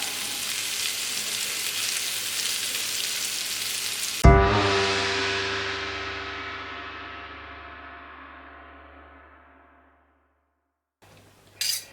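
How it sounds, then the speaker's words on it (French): Pumpkin pieces browning in a knob of butter in a wok give a steady sizzle for a few seconds, then a sharp metallic clang rings out and slowly fades over several seconds. "faire dorer un petit peu dans mon wok avec une noix de beurre"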